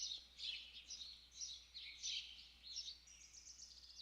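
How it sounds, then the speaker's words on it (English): Recorded birdsong plays back as a loop, with repeated bright chirping phrases in short bursts, fairly faint and without voices, the same pattern recurring across the stretch. "we'll open it up and you can hear the birds"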